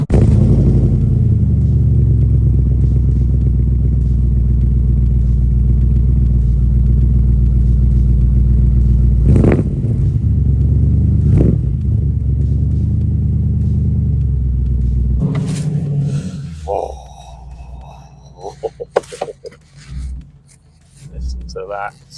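A 2001 Morgan Plus 8 engine rumbling loudly up close, a deep steady roar for about fifteen seconds with a couple of sharp knocks, then it cuts to quieter, scattered clunks and movement sounds.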